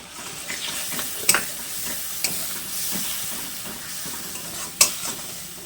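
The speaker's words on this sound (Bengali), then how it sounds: "যতক্ষণ না মশলা থেকে যে কাঁচা গন্ধটা বেরোবে আদার, ততক্ষণ মশলাটাকে কষে নেব আস্তে আস্তে জাল দিয়ে" Ginger paste, cumin and turmeric powder with a splash of water sautéing in a pan over low heat, giving a steady soft sizzle with occasional louder stirring scrapes and clicks, no talking.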